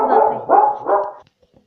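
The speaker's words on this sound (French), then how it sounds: "Alors, les chiens vont aboyer." Several dogs barking close by in three loud bursts, then short faint yips trailing off into quiet.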